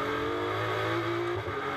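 A GT safety car at Misano approaches the timing line during a GT World Challenge Europe race. The engine note is loud and near, a sustained, rising drone with a brief dip near the end.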